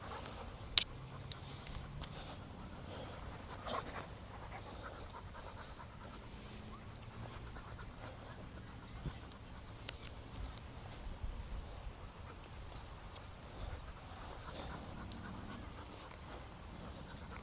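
A pitbull pants steadily on a walk, quick soft breaths close by, with a few faint clicks and footsteps under it.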